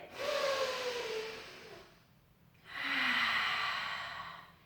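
Two long, close breaths during a gentle Pilates exercise: a drawn-out breath, a short pause, then another full breath, soft and airy with no talking.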